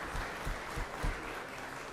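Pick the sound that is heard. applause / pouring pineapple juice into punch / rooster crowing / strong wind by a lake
applause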